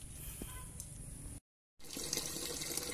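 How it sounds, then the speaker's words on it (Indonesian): Warm flush water draining from a Suzuki Feroza radiator, a steady close splashing pour that cuts out briefly and then resumes. "Sekarang saatnya untuk membuang air hasil pengurasan"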